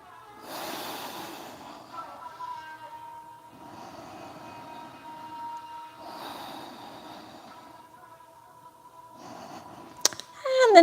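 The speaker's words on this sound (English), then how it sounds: "breathing through your nose" Slow breathing through the nose during a yoga session, several long audible breaths at a steady rhythm, close and fairly quiet, with a sharper sound at the very end.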